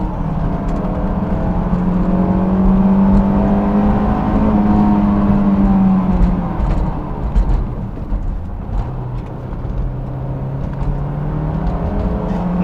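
A 2005 Honda S2000 driven flat out on a twisty road, its engine holding a loud, steady high-revving drone with a dip in pitch as it eases off, then climbing again.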